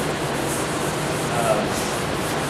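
Dry sanding on a Camaro door panel with 80 grit sandpaper: a steady, close rubbing hiss that carries evenly through the whole stretch without clear strokes.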